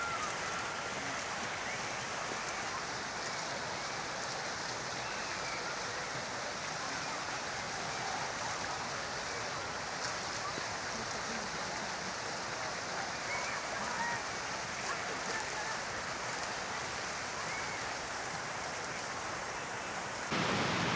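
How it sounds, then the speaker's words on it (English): Cascading water roaring steadily in the garden at Alnwick Castle, a dense, constant rushing wash of noise that holds even throughout and stops abruptly at the end. "you still hear the roar of the cascading water as it comes down"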